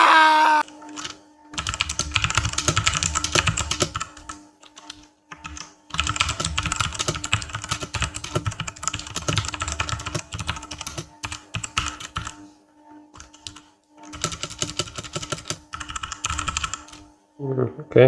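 Keys on a CBGK18 mechanical keyboard are pressed in bursts of rapid, clicky typing, separated by short pauses and backed by a faint steady hum.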